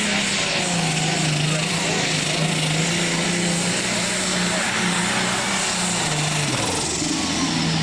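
A high-powered single-turbocharged pulling tractor engine roars continuously down a 300-foot track at a truck and tractor pull in Imlay City, loud and droning, with an announcer talking over it.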